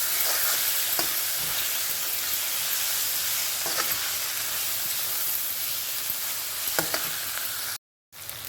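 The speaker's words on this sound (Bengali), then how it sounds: "দুটো মিডিয়াম সাইজের টমেটো আমি এখানে কুচি করে রেখেছিলাম সেটা মিশিয়ে দিলাম" Chopped medium tomatoes are stirred into sizzling dhaba-style dal fry in a pan, giving a continuous hiss of frying with periodic scraping stir strokes, close and steady, before a brief dropout near the end.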